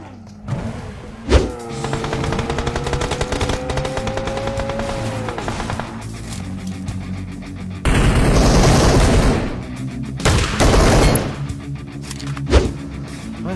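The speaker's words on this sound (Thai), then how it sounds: "เขายิงมาน่ะ" Gunfire in PUBG Mobile, with bursts of rapid automatic shots and booms mixed with vehicle engine drone and game effects, loud and close.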